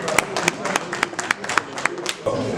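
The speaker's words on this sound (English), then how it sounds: "A round of applause for him, and thank you very much for coming." An audience at a formal meeting gives a short round of applause, sparse irregular claps spread over a couple of seconds, with speech mixed in.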